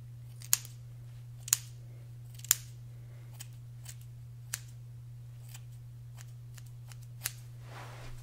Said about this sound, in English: I'm just going to trim just along here.